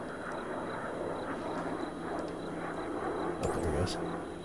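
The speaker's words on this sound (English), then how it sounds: "Real drone." A drone flies in the video game Ghost Recon Breakpoint at night, heard as a steady, moderate engine whir that holds throughout, with a faint brief hum rising near the end.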